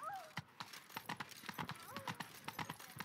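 Geralt's horse Roach gallops in The Witcher 3, hooves clip-clopping in a steady, rapid rhythm close by, with brief whinny-like tones and light game ambience.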